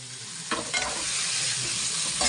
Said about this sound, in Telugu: చికెన్ వేసి బాగా కలుపుకోవాలి.